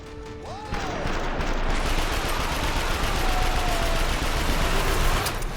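Sustained rapid gunfire in The Darkness II game, dense overlapping bursts and impacts with crashing debris, loud and continuous after a brief lead-in, no talking.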